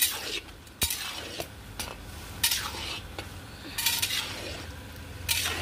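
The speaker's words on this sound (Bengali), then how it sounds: "দিয়ে আবার খানিকটা আমি নেড়ে দেবো" Pulao stirred in a pot after salt is added, with repeated scraping and clinking strokes of a utensil against the metal over a gentle sizzle, close, several distinct knocks spaced across the stretch.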